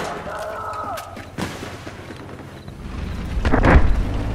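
Video game shooter gunfire goes off as scattered booming shots and thuds within a busy mix of game noise. It builds to a heavier rumble toward the end, and faint talk can be heard beneath it.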